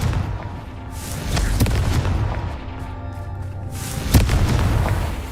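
A Confringo fire spell goes off in Hogwarts Legacy, giving deep booming blasts over a continuous rumbling roar, with one sharper burst near the end.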